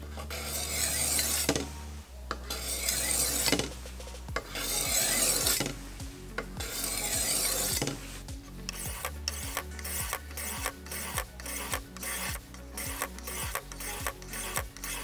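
A knife blade is drawn along its bevel on a sharpening stone in long, loud rasping strokes that settle into quicker, shorter rhythmic scrapes, up close and with no speech.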